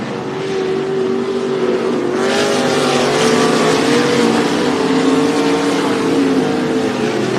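Limited sprint race cars roaring through turn 2 of a dirt racetrack, a loud, continuous engine drone with shifting pitch as several cars pass close by.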